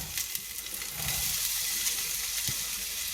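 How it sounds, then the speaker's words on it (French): Onions dropped into hot olive oil in a cooking pot for Moroccan lentils, giving a close, steady hissing sizzle that swells slightly after the first second and holds. "Dès que mon huile échappe, je vais venir mettre mes oignons"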